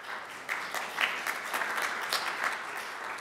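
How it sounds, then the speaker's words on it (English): An audience at a community healthcare meeting bursts into applause, with a dense, steady patter of many hands clapping, fairly close, and no talking over it. "So let's give them a round of applause."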